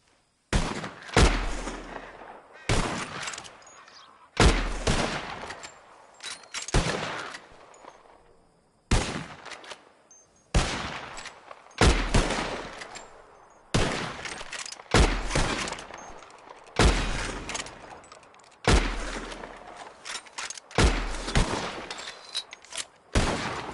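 Gunshots fired at birds in Red Dead Redemption 2: about a dozen loud, sharp reports in quick bursts and spaced singles, each with a short echoing tail, and no talking.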